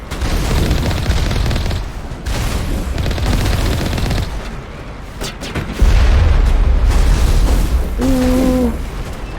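Enemy turret fire in Mass Effect Legendary Edition, a loud, continuous barrage of gunshots and booming impacts lasting the whole clip, with heavier blasts near the end and a short electronic tone.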